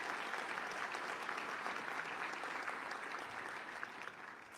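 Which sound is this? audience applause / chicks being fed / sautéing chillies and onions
audience applause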